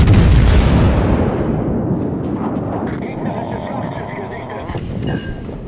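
A heavy, booming blast of warship guns firing in the video game World of Warships opens with a loud roar that rumbles and fades, followed by softer mechanical clatter.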